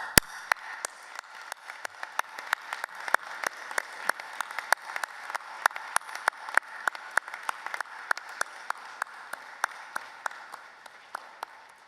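A graduation ceremony audience gives a warm, sustained round of applause, dense clapping from many hands holding steady for about twelve seconds with no voices over it.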